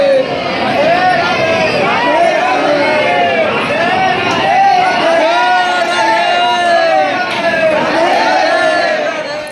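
A dense crowd of devotees at Prem Mandir temple in Vrindavan fills the space with loud, continuous hubbub, voices overlapping in chanting and chatter throughout.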